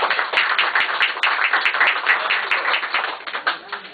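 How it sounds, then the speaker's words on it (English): Audience applause greeting a speaker at a political announcement, a few seconds of steady clapping at moderate distance with a voice faintly over it. "I'd like you to give a big round of applause to your friend and mine, Mr. Wayne Langston."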